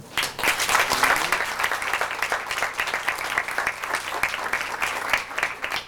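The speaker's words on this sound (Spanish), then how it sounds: "yo creo que se merecen otro aplauso" Steady applause from a festival audience at Viva Zapata 2001, a dense crowd clapping continuously at moderate volume for several seconds.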